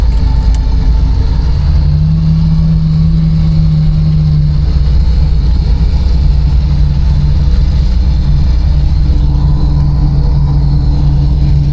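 A LuAZ off-road car climbs a steep, snowy uphill in low gear, its engine droning steadily and loudly close by throughout, with a sustained low hum and no speech.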